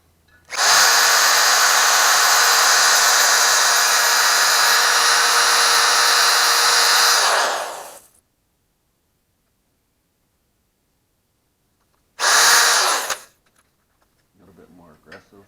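A grinder blends the bowls of an LS 243 cylinder head on an iron-block 6.2, a loud steady high-pitched whine for about seven seconds, silence, then a second short burst.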